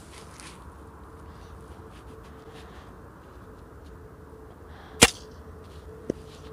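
Single sharp crack of a Gamo Hunter air rifle fired on a long-range outdoor target course, one loud shot standing out against low background noise, followed about a second later by a faint small impact.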